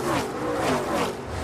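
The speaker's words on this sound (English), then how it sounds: "That's just the throttle having to pedal that truck up off the corner." A NASCAR race truck on the Texas track throttles up off a corner, a rough, roaring engine note swelling and surging for a moment.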